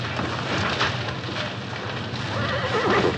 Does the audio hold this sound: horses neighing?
yes